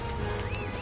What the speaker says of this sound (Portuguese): Olha o cavalo